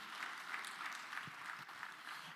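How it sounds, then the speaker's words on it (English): An audience claps for the presenters at a community challenge finalist showcase session. The applause is a faint, steady patter of many hands that runs evenly through the whole moment, with no voices over it. "Please give them a round of applause."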